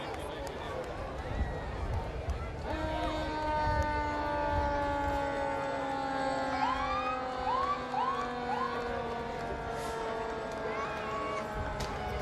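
Emergency vehicle sirens from fire rescue and police units in a Memorial Day parade, several wailing and yelping tones overlapping at moderate distance beneath crowd noise and speech.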